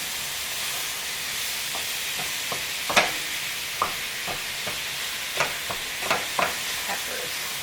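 Onion and garlic fry in a hot pan for lasagna, a steady loud sizzle with scattered pops and crackles and occasional stirring clicks throughout, with no talking.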